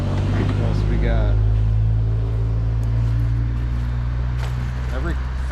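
Cars driving past on a road near Furnace Ave and Ridge Rd, a steady loud traffic rumble with engines humming close by while someone talks over it.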